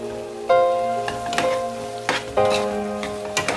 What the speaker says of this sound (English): So now after 2 minutes for frying the green beans and the onion, I will add carrots